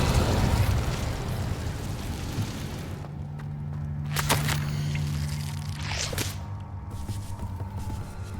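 A fire spell cast in the Hogwarts Legacy video game bursts with a whooshing blast and crackle, followed by a few sharper whip-like bursts and a low steady hum, moderately loud with no talking.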